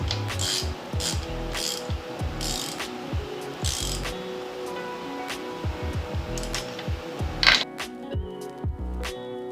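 A ratchet clicks in quick, even runs while tightening a spark plug in an engine, close up and fairly quiet, with a short pause near the end.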